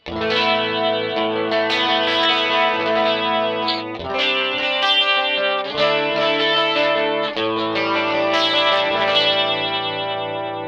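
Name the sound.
guitar amp tone with nasty breakup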